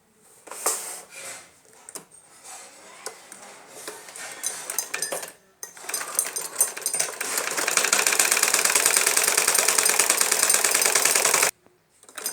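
A sewing machine stitching a salwar: short handling knocks and clicks first, then a long steady mechanical whirring run of rapid stitching that stops abruptly, all close and without talk.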